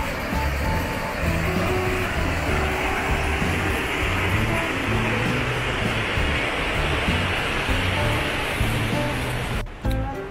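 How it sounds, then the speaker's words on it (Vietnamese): A stream near Elephant Waterfall in Lâm Hà, Da Lat, rushes in a continuous, fairly loud broadband wash of flowing water, steady from start to finish with no talking. "Đây là con suối."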